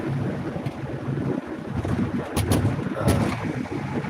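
A vehicle driving on a long road trip from Washington State toward Macon, Georgia, with a steady low road rumble and wind buffeting inside the cabin, a brief louder swell near the end, and no talking.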